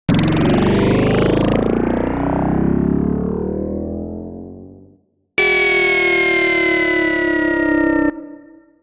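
Falling pitch sweeps from a NoizeBreaker sound design toolbox: a loud, dense, distorted siren-like downer glides down and fades over about five seconds, then after a short gap a bright, steady tonal sweep holds before cutting off.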